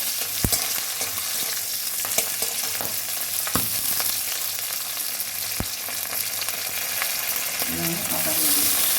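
Garlic and green chilies fry in a pan with a steady close sizzle, broken by a few sharp clicks and scrapes from stirring, with no talk.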